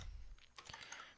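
Faint, brief typing on a computer keyboard: a handful of soft, close key clicks at an uneven pace in a quiet room.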